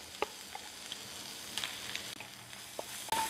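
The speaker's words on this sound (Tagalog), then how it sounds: "So, gisahin lang natin ito para matanggal yung asim ng ating tomato paste for few minutes." Tomato paste sautéing in a pan for a quick lasagna sauce gives a quiet, steady sizzle dotted with small crackles and pops, with no talking over it.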